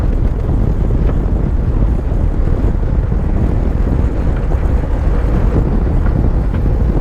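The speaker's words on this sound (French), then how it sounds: "j'ai le vent dans la figure" Wind rushes and buffets the microphone steadily throughout a downhill bicycle ride, a loud, continuous low roar with no voices.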